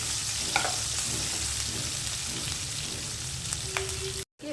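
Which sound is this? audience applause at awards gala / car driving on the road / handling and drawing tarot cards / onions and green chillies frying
onions and green chillies frying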